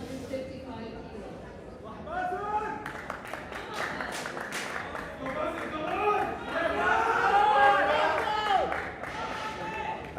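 Crowd at a powerlifting meet cheering and shouting as a lifter steps onto the platform for a 155-kilo attempt: a dense, sustained roar of many voices that swells louder toward the end, with scattered claps and calls.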